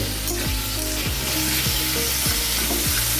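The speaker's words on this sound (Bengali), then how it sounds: "প্রথমে আলুগুলো ভালো করে ভেজে নেব ঘিতে ভাজতে হবে" Potatoes fry in ghee in a pan, giving a loud, steady sizzle. A spatula scrapes through it in a series of regular strokes, roughly one every half second.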